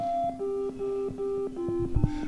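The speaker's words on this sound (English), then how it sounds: "What you hear right now are two oscillators." Two tuned Eurorack oscillators from a Tubbutec µTune microtonal module drone in steady electronic tones that shift pitch in short stepped segments, near and alone.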